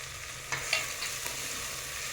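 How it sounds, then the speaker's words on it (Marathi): Ginger garlic paste hitting roasted onion and tomato in a hot pan makes a soft, steady sizzle with a few small stirring knocks. It stays faint and close, with no voices. "आपण ह्याच्यात आता आलं लसूण पेस्ट टाकणार आहोत."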